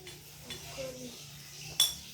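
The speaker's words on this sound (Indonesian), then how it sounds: "piring bisa menghasilkan bunyi ketika dipukul" A plate struck once in a classroom lesson gives a single short, bright clink near the end, over a low room hum and faint background noise.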